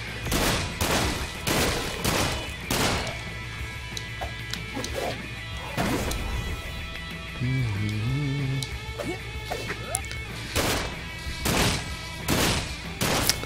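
The Dirty Harry gun firing in Sunset Overdrive: a series of loud, punchy shots at irregular intervals, close up amid busy game noise and effects, with no talking heard.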